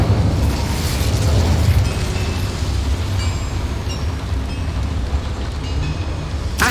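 A fiery Incendio spell bursts in the video game Hogwarts Legacy, a roaring, rumbling blast that swells at the start and then settles into a sustained crackling fire.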